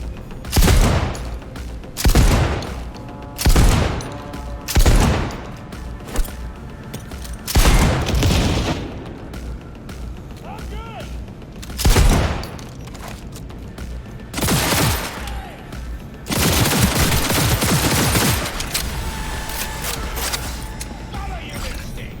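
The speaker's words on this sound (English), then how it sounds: "Keep firing, goddammit!" Sustained gunfire in the Cyberpunk 2077 video game, loud repeated bursts and booming volleys spread across the span, with heavier continuous shooting near the end.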